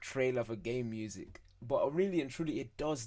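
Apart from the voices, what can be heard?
No everyday noises stand out.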